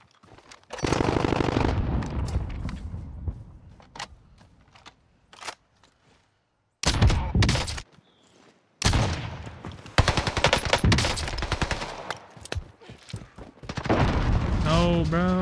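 Video game gunfire rattles in loud automatic bursts and single sharp shots, coming in clusters separated by brief quiet gaps, with a player talking at times.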